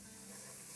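Spices and onion sizzle as they are stirred together in a soup pot for a winter black lentil soup, a steady broadband hiss with no talk.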